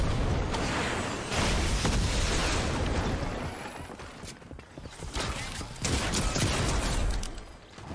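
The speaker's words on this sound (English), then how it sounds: "He put down a turret to shoot me in the back, bro." Rapid automatic fire from a deployed turret in a shooter video game at a new location, Eclipse Estate, rattling in dense bursts with short gaps, loud and near throughout.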